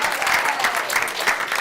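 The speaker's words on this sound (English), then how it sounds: "We'll give a round of applause for you, too." Brief applause at a city schools board of education meeting: a room of people clapping steadily and fairly loudly with slight rhythmic pulses, no voices on top.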